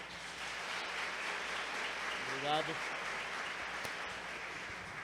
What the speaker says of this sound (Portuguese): se você puder dar uma salva de palmas para eles